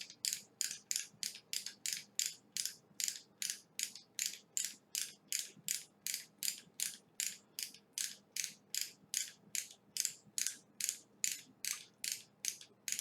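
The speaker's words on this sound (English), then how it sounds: "I don't know why I wasn't ratcheting." A ratchet mechanism clicks in a fast, steady rhythm, with dozens of crisp, evenly spaced ticks close by over a quiet background and no talking.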